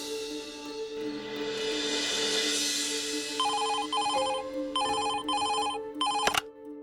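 A cartoon telephone rings in repeated short bursts of bright trilling bells, starting after a sustained tonal background and ending with a sharp click as the call is picked up.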